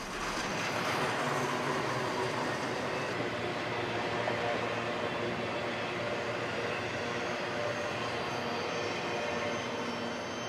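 An eastbound freight train climbing a grade on the Needles Subdivision between Cadiz and Barstow on a cool winter day, a steady, loud, continuous broadband rumble and roar of locomotives and rolling cars that holds unbroken throughout, with no talk.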